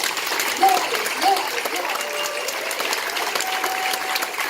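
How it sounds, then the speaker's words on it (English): Audience at an International Women's Day event aboard Celebrity Edge claps for Lisa, a steady, fairly loud wash of applause with faint whistle-like tones over it and indistinct voices mixed in. "we need to give Lisa a really, really sounding round of applause"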